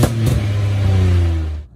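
A Citroen C1 petrol engine with a misfiring cylinder and coil fault, heard from outside the car, revs up once loudly and close, holding a rough droning pitch before cutting off abruptly.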